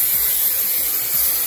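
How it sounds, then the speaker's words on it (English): Hairspray misting onto hair before setting heatless curls, one continuous close, loud aerosol hiss with no talking. "First, I'm going to add some hairspray."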